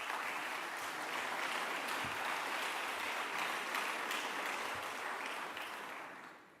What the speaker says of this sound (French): Je souhaitais qu'on puisse l'applaudir.